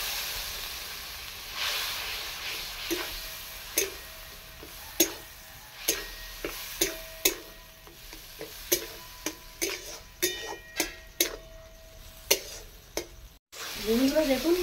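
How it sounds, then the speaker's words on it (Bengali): Spice paste with cumin powder sautés in a pan with a splash of water, soft sizzling and bubbling underneath a series of sharp spoon scrapes and taps against the pan, ending in a brief louder sizzle. "একটু জল দিয়ে কষতে থাকবো।"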